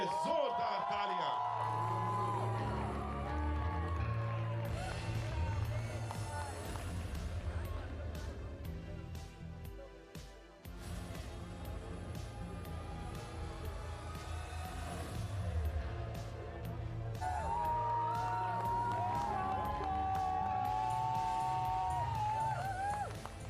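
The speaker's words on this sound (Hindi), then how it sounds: "जोरदार तालियां" A large crowd at a film trailer launch cheers and whoops over loud music, the noise swelling, dipping briefly midway, then rising again.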